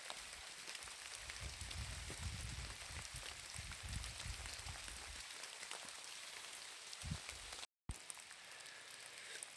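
Heavy rain pours down outdoors in a dense, steady hiss with low rumbling patter, continuous for the whole stretch apart from a very short dropout near the end.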